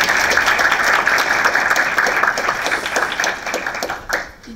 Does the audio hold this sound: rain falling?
no